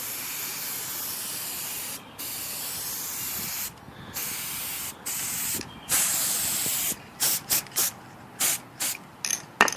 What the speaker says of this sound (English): I'm going to spray all these parts and just fold them back